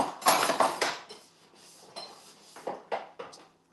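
Dishes being washed in a kitchen sink, with irregular clatters of pots, pans and cutlery knocking together, loud and close, in bursts separated by short pauses.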